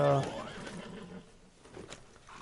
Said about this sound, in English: This horse is so close to mine